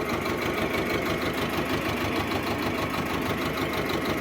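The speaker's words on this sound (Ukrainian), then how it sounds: "Моторчик, бачите, рівномірно працює" Small tractor engine running evenly, a steady close-up mechanical chugging with a regular fast rhythm and no voices.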